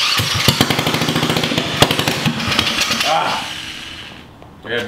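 A Predator 212 small engine runs backwards with a rapid, loud, chugging pulse that slows and dies away, followed by near quiet and a brief noise at the end. A voice may be faintly heard.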